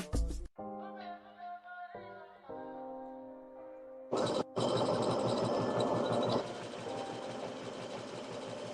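A sewing machine or overlock machine, a Baby Lock or Bernina, runs in steady stitching bursts with brief pauses between them, fairly close, with a humming motor and no speech.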